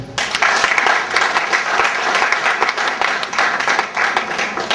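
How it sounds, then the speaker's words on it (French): A crowd applauds at a football academy press conference in Togo, dense steady clapping that stays loud and even throughout with no talk. "Je vais vous demander de les applaudir."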